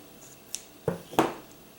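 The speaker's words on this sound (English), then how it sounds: "cut my yarn" Scissors snip through crochet yarn at the end of a Mobius infinity headband: two or three short, crisp close cuts, the last one loudest, in an otherwise quiet room.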